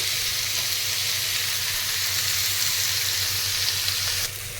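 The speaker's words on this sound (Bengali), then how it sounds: "মাছটাকে আমি খুব সুন্দর করে ভেজে নিচ্ছি।" Prawns frying in hot oil for a pointal-prawn curry give a steady, loud, close sizzle that holds evenly throughout, with no voices.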